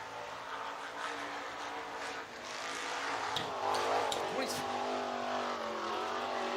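A race car laps the dirt oval at Batesville Motor Speedway in Arkansas, engine drone rising as it accelerates, heard at a distance under a track announcer's voice.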